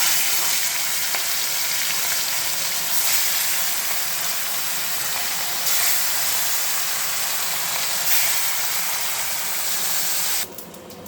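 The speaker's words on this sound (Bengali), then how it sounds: "মাছ ভাজা কমপ্লিট।" Fish frying in hot oil, a loud continuous sizzle and spatter close up, steady throughout with a few swells of crackle, ending in a brief clatter.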